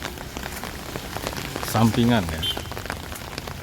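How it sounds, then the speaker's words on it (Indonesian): Rain patters steadily on an umbrella as someone walks outdoors, a dense, even hiss of drops close overhead, with a short stretch of speech in the middle. "hujan pakai payung sekalian ngevlog"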